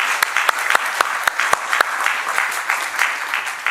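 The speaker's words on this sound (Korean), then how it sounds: "하나님께 영광의 박수." A church congregation at Sunday worship claps together to give glory to God, a steady rhythmic applause with distinct sharp claps standing out near and loud.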